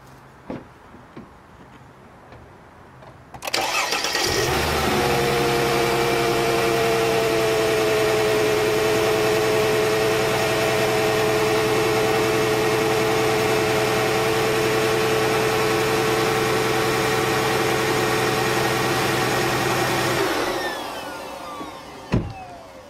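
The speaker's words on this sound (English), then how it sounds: "first you need to start up the car and observe the engine and see how much it vibrates" After a few quiet seconds a car engine with a bad ignition coil cranks and catches, then idles at a steady hum for about fifteen seconds before shutting off.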